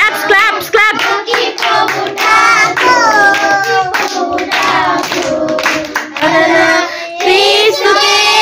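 A group claps hands in a steady rhythm through a Sunday school Christmas worship song at a church, loud and close, with singing voices carrying the melody over the claps throughout.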